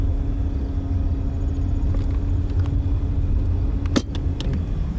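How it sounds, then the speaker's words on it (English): A car rolls slowly toward the listener and past on Joe Road in Stockbridge, Wisconsin, a steady low rumble with a faint tonal hum throughout and a brief sharper swell near the end. "See the car coming towards us, and he's coming slow."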